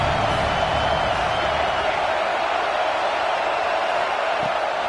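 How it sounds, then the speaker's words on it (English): Home crowd at a college football game between Tennessee and Oregon roars steadily throughout, a dense, continuous wash of cheering with no breaks and no clear voices standing out. "How nice is it to have the home crowd going absolutely bananas?"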